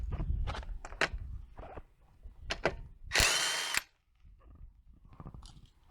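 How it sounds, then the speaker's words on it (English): Harbor Freight Earthquake impact wrench spinning a 21 mm tire lug nut off a Hyundai Santa Fe, heard as a loud, roughly half-second burst of hammering whine amid short clanks and tool handling. "I'm going to be using my earthquake impact wrench from Harbor Freight"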